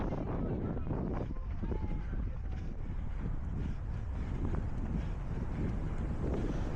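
A headwind buffets a runner on a long straight at an Eastbourne parkrun, a constant low roar of wind rumbling across the microphone with gusty surges throughout.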